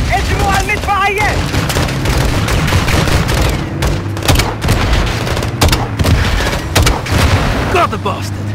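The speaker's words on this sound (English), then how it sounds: "LMG on the right!" Light machine gun fire in the video game Modern Warfare 2, rapid bursts and booming shots over a constant rumbling battle bed, with voices shouting between volleys.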